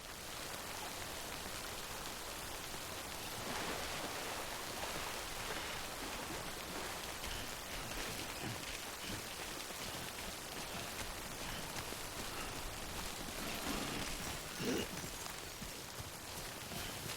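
Rain falling in the video game Death Stranding, a continuous dense hiss of drops on surfaces that holds steady throughout at moderate loudness.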